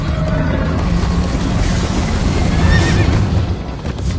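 A horse from the video game Minecraft Story Mode neighs amid dense game noise of galloping and rushing sound, loud and continuous throughout.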